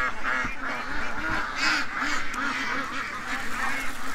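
Ducks and geese at a farm water trough call continuously, with repeated nasal quacks and a few louder honks overlapping in a close, busy flock chorus.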